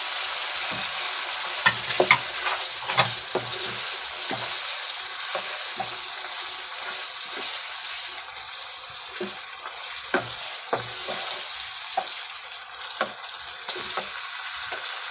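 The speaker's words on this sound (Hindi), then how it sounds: "ये देखें अच्छी तरह मसाले को भून लिया है।" Steady sizzling of spices frying in a pan for beetroot mutton curry, with repeated scraping and stirring clinks throughout, close and moderately loud, no talking.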